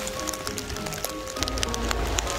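Steady rain patters down, a dense wash of soft hiss dotted with sharp droplet ticks, constant and fairly close throughout.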